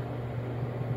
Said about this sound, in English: So now we take the strawberries and I'm just gonna put them in the microwave.